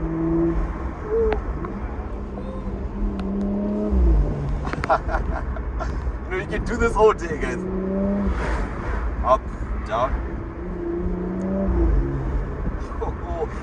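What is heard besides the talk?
sports SUV engine revving, intake noise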